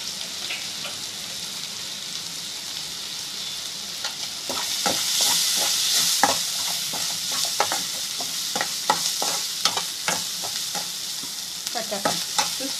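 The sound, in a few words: stirring snack mixture with lemon juice in a pan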